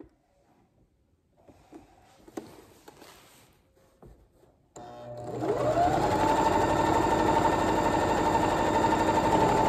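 A sewing machine stitching a Tahitian hip belt starts up after some quiet handling clicks and rustles, then runs at a steady, fast, close whir with a rising pitch as it gets up to speed.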